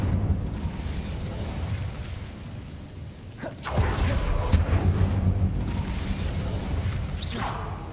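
A fire spell bursts out in Hogwarts Legacy, a sudden whooshing blast around the middle of the clip over a continuous bed of game noise and rumble, with a few sharper pops following.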